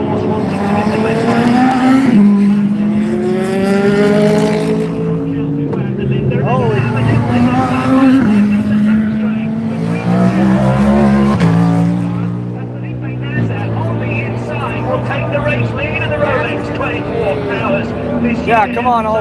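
GTD and GTD Pro race cars, including a Porsche, Corvette and BMW, at the 2025 Daytona Rolex 24 IMSA WeatherTech race, with high revving engines droning and shifting pitch continuously beneath excited talking voices.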